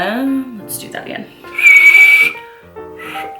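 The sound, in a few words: whistle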